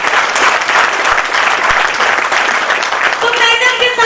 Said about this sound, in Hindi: एक जोरदार ताली हो जाएगी लोग।